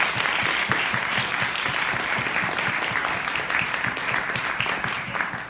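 A conference audience applauds at the close of a plenary session, with dense sustained clapping from many hands filling the room for several seconds.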